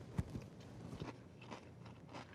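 Crisp crunching bites of cornflakes cereal in milk, a few irregular close crunches with a sharp one early, eaten at a breakfast table.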